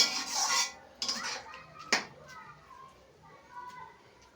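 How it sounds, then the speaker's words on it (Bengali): A utensil stirs grated carrot with milk in a pan, giving a few close scraping and clinking strokes, loudest at the start, then quieter soft stirring with faint voices in the background. "এই দুধ দিয়ে এইভাবে নাড়তে হবে নেড়ে নেড়ে"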